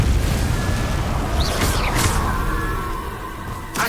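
Impulso spell blast in Hogwarts Legacy: a deep booming burst followed by short whooshing magical swirls and crackles that fade into a low rumble, ending with a sharp pop.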